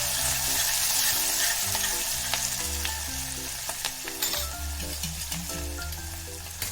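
Curry leaves and green chilies sizzling and crackling in hot oil for Gujarati kadhi, a steady close frying hiss with sharp pops and spoon-stirring clinks, while background music plays.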